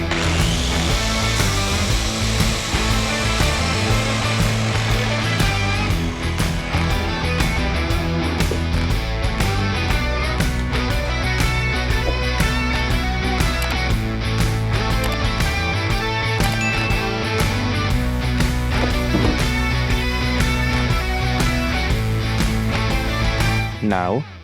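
Loud, continuous power sawing through wood to shorten a piece, with a steady motor whine and shifting pitch, close up, with no pauses.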